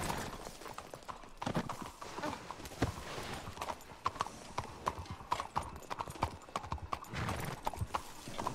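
Horse hooves clip-clop in a steady walking rhythm, close and fairly loud, with occasional scuffs and faint background voices between the beats.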